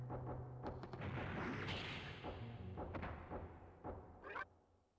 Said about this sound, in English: Let's use the hand grenade.